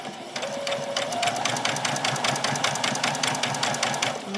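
A sewing machine runs steadily while stitching a doll's dress, a close, fast, even rhythm of needle strokes over a low motor hum.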